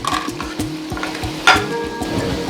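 A pinch of cumin is dropped into mutton butt karahi sizzling in butter and yogurt-cooked meat, with a steady frying hiss and repeated scraping of a spoon stirring the pan, plus a brief sharper clink midway.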